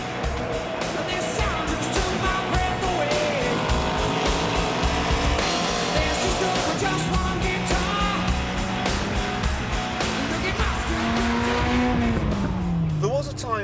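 A Ford Escort Cosworth drives hard with loud engine roar and squealing tires, a rising whine near the end, heard continuously and close over the full stretch.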